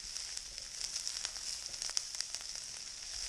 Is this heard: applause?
no